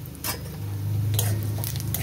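Cardamom, cinnamon, bay leaf and cumin seeds crackle in hot oil with a dense close sizzle, a couple of quick stirring scrapes and a low steady hum underneath.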